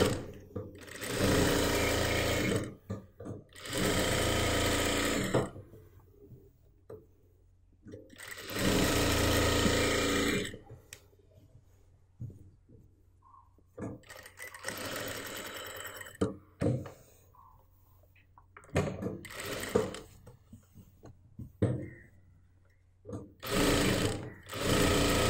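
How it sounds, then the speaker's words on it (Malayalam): A sewing machine stitches nighty cloth for a churidar in repeated loud bursts of rapid mechanical whirring, each lasting a few seconds, separated by quiet pauses and short stop-start runs. "ഒരു സ്റ്റിച്ചും കൂടി ചെയ്ത് കൊടുക്കുക."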